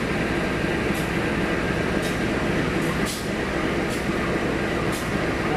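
A CC203 diesel locomotive, just back from service, idles during an inspection with a loud, steady rumbling drone and faint metallic ticks recurring about once a second.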